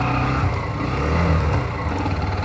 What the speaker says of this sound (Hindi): तो ऐसा कुछ सेल्फ स्टार्ट वर्क करता है इस बाइक का, साउंड तो बहुत बढ़िया कर रही है ये बाइक